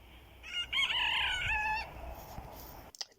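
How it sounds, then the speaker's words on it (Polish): A small young rooster crows once, a loud drawn-out cock-a-doodle-doo with a rising then falling call, followed by quieter farmyard background. "Tak pieje ten mały, jak widzieliście, kogut."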